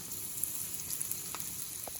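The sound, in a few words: frying chana dal, urad dal, garlic, dried chillies for pickle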